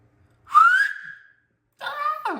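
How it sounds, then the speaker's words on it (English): A loud, sharp finger whistle rising in pitch, followed after a pause by a second shorter, wavering whistle attempt. "one thing that I'm very proud of is whistling with my fingers"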